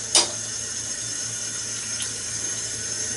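Tap water runs steadily into a bathroom sink for rinsing after a wet shave, a continuous close hiss with a brief splash near the start.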